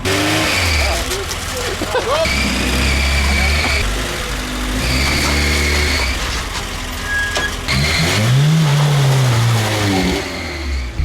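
A Lada Zhiguli with a welded rear differential turns left on an uneven winter road, its engine revving and surging while the inner rear wheel scrubs and slips. A voice speaks over the engine noise.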